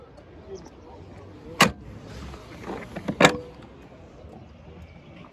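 Power windows on a used car for sale at a car market whir briefly twice, each followed by a sharp thunk, amid outdoor background noise and some nearby voices.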